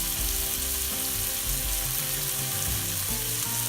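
Chopped onions hitting hot oil in a pan for bunny chow, a dense continuous sizzle and crackle close up, with faint stirring underneath and no voices.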